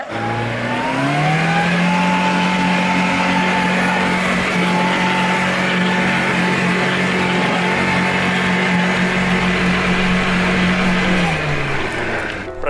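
A vehicle's engine revs and strains continuously while stuck on a thawing northern winter ice road, with the loud whining pitch rising and holding as wheels spin without progress.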